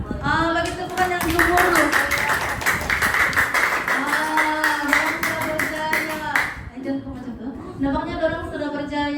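A class of pupils claps for the winning group in a classroom activity; brisk, fairly close clapping lasts about five seconds while the teacher keeps talking over it and afterward.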